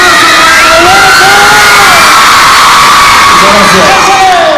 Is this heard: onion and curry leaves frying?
no